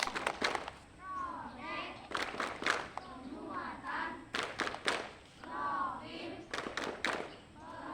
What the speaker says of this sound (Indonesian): tepuk terima